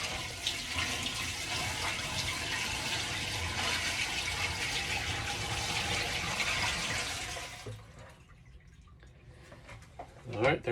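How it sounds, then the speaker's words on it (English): Water pours into an RV camper black tank in a steady gushing rush for several seconds, then stops, leaving a quiet room with a few faint knocks and a voice near the end. "Go ahead and pour in another few gallons of water here."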